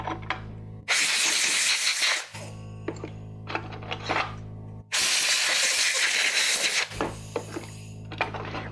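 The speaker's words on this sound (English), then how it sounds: "So we're going to blow these blades off into the degreaser." Compressed air blasting clipper blades clean into a tray of degreaser, two long loud hissing bursts with metallic clinks of blades in between over a steady low machine hum.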